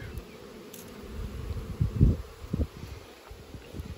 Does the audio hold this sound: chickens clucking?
no